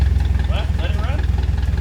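Ferrari Testarossa engine idles close by with a steady, throbbing low rumble pulsing in an even rhythm, loud and continuous.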